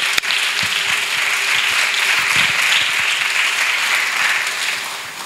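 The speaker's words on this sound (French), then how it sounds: "Acclamation à Jésus." Sustained applause from a large crowd at a Christian crusade gathering, a dense, steady wash of clapping that holds loud throughout and tapers slightly at the end, with no talk over it.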